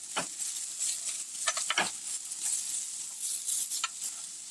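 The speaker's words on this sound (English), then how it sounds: "Remember, the beets is already cooked, so you really just want to mix it well with the shallots and the garlic" Cooked beets, shallots and garlic are stirred in a pan, with soft scraping strokes and a gentle sizzle coming in quiet, irregular bursts close by.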